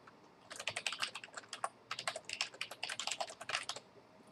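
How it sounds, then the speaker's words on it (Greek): An email address is typed on a computer keyboard as quick, fairly faint clusters of key clicks with brief pauses, close by and alone. "εδώ γράφετε το email σας"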